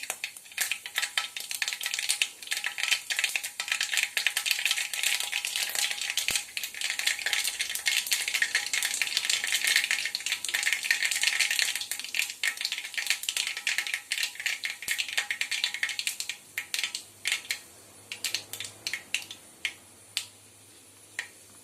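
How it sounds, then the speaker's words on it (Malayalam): Mustard seeds crackle and pop in hot oil for a Kerala-style chicken curry tempering, a dense, close rattle of sharp snaps that thins into sparser pops toward the end. "കടുക് നന്നായിട്ട് പൊട്ടി വരട്ടെ"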